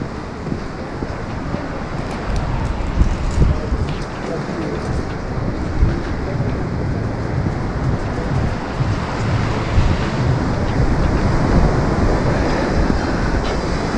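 Steady roar of sea surf breaking along a windy beach at Lazarevskoye on the Black Sea coast, continuous broadband wash with wind gusting over it, loud and close throughout with no pauses.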